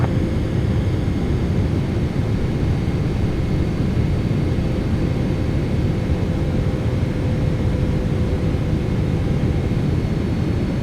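An All Nippon Boeing 777-300ER lands on runway 16L at Haneda, heard from inside the cabin as a steady loud engine and airflow roar with no clear change.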